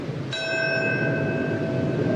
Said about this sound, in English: A bell chimes in New York City in the shadow of the Freedom Tower